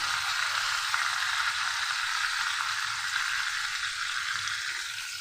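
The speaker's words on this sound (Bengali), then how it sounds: "একটু ভালো করে আমি মশলাটাকে ভেজে নেব।" Ginger-garlic paste with cumin and coriander fries in oil for a fish curry, a continuous soft sizzle with a low rumbling undertone, steady and close without pauses.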